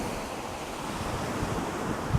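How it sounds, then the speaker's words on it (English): Continuous ocean surf washing steadily, a broad rushing roar with wind buffeting the microphone, constant and fairly loud with no distinct break or voices. "focus on the ocean if you like."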